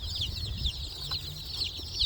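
Freedom Ranger meat chicks, just arrived in their shipping box, chirp continuously in a busy chorus of high peeps over a low background hum.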